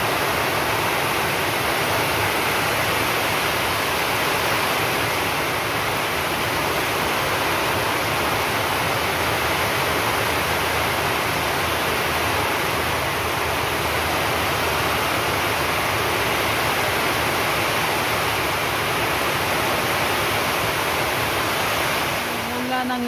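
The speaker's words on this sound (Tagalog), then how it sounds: "Yan mga kaibigan, ang lakas ng ulan." Heavy rain pours down steadily and loudly for the whole stretch, a dense, unbroken roar of falling water close by, with no break in intensity.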